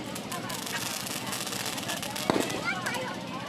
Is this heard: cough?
no